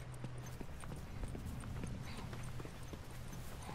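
Horse hooves clip-clopping in The Last of Us: Left Behind video game, a steady run of soft, irregular hoof knocks over a low ambient rumble, fairly close and continuous.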